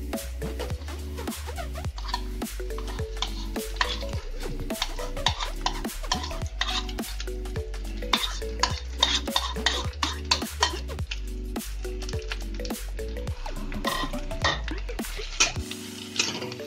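A utensil stirs mashed boiled potato and boiled egg into fried onions in a pan for a Bangladeshi egg-and-potato vorta, with steady rhythmic scraping and clinking and a soft sizzle beneath.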